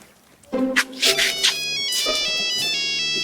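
A mobile phone ringtone plays loud and close as a bright electronic melody of rising and falling tones, pausing briefly before the tune repeats.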